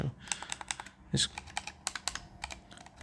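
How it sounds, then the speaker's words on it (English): Clicky face buttons on an Xbox-style PS5 controller are pressed in quick, irregular succession, producing sharp, faint close-up clicks with short pauses between them. "the rest of the buttons are also very clicky"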